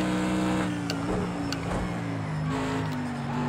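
Mercedes-AMG GT3 race car engine in the Project CARS 2 racing game at Hockenheim, a steady droning tone with shifting pitch, held near and loud throughout.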